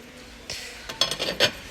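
Ceramic dinner plates, including a large colourful 25 cm plate, clink together in a few quick, close, light knocks in a quiet room, with the last contacts coming in a short cluster.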